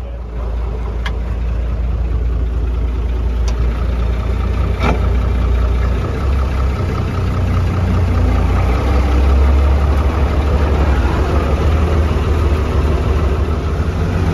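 A farm motorbike engine idles steadily nearby, a low continuous rumble that runs the whole way through, with the hum shifting slightly partway in.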